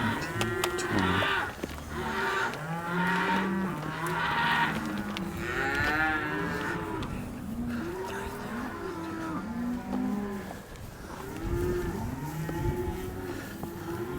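Cattle on a ranch moo over and over, several overlapping calls from a herd moving through together, loud and close, with a brief voice or two mixed in.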